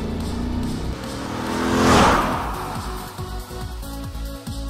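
Holden VZ Commodore ute with a Gen 3 LS1 V8 engine, its deep engine note swelling to a loud peak near the middle as it revs or passes, then settling back to a steady rumble.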